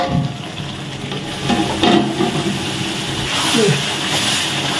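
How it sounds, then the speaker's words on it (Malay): Spice paste sizzles and crackles steadily in a hot wok as it is fried until crisp, with occasional scraping as it is stirred. "kita kena tumis sampai dia garing lah sampai dia masuk dan dia garing"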